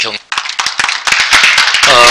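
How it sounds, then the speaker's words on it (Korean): Audience clapping after the chairman's remarks at a Korean church association meeting, a dense burst of close hand claps with a voice speaking over it at the start. "대표회장님 말씀에 박수 한번"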